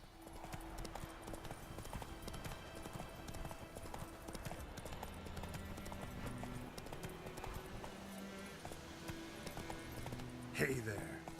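Hooves of Roach, the horse in The Witcher 3, clip-clop in a steady galloping rhythm across the whole stretch over in-game music, with a sharp brief burst near the end.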